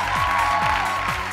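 Steady, dense applause from a gala show audience, continuous and fairly loud throughout, with a low musical tone underneath.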